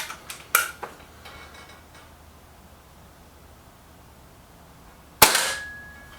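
A Reximex Accura air rifle fires a pellet at a paper target, a single sharp near crack late on, after faint clicks and handling noises early in an otherwise quiet stretch.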